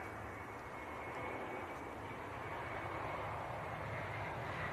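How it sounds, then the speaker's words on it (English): A KLM Embraer 175 airliner from Amsterdam arrives at Leeds Bradford Airport with a steady, broad engine roar. The sound is fairly distant and constant throughout, swelling slightly toward the end. "here comes a KLM from Amsterdam. This should be an Embraer 175."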